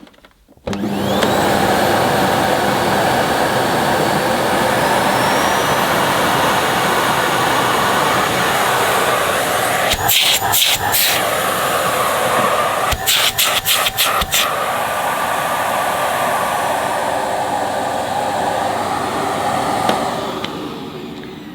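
A Philips Tri-Active bagless vacuum cleaner starts up and runs with a loud, steady whooshing roar, briefly interrupted by a few sharp rattling bursts midway, then keeps droning until shut off.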